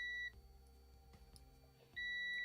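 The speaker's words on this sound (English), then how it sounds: "you'll hear the meter beep" A high electronic beep sounds twice, steady tones at the start and end with a short quiet gap between.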